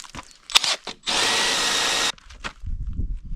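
A power drill with a 16mm spade bit bores a hole in one loud, steady whine of about a second, with scattered knocks and handling noises before and after it.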